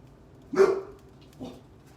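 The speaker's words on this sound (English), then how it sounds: "Are you my pot sensor now? Is that what you're barking for?" A dog in a home kitchen gives two short barks, the first louder and sharper, the second softer about a second later, close by with no talk over them.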